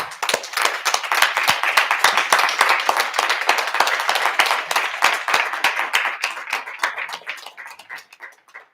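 Sustained applause from a crowd at a school board public session, dense close clapping that continues steadily for several seconds and thins slightly toward the end.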